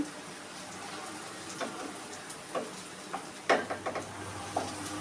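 Onions frying in a pan while browning, a soft steady sizzle with scattered light pops and a few stirring clinks, fairly quiet and close.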